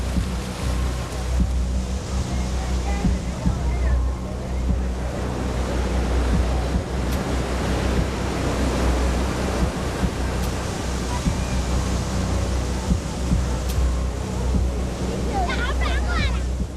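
Open-ocean waves and surf roll in a loud, continuous broadband wash mixed with wind buffeting the microphone, steady throughout with no clear breaks.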